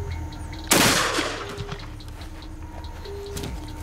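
A single loud 12-gauge shotgun blast fired at an old television at a controlled range, a sharp bang with a decaying echo tail, followed by faint ringing tones.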